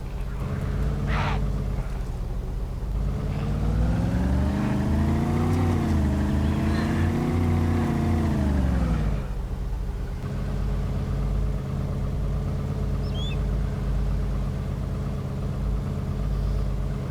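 A car engine in the video game DayZ drones steadily, its pitch climbing and falling as it drives, then settling into an even idle-like hum.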